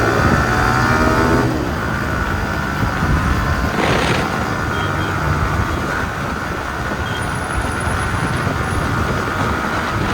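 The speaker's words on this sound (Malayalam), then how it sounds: "ആ ഒരു ബൈക്ക് അതിൻ്റെ പുതിയൊരു വേർഷൻ ഇന്ന് ഓടിക്കാൻ പറ്റിയല്ലോ" A Yamaha R15 M, a 155cc liquid-cooled single-cylinder motorcycle with VVA, riding on a road, heard as a steady engine drone mixed with heavy wind rush, continuous and loud.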